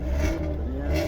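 A Lada Zhiguli car engine runs at a steady idle close by, with a deep, even rumble and hum through the whole short stretch.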